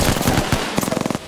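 Rapid bursts of gunfire in the video game Apex Legends, a few spaced shots followed by a quick automatic string, loud and close.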